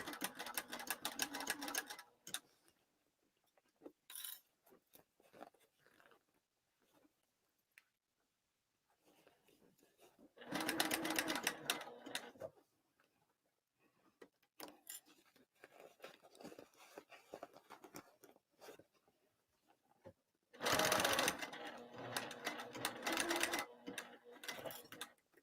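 A sewing machine stitches fabric lining in several separate bursts of quick, close mechanical whirring, with quiet pauses between them and soft voice sounds in the gaps.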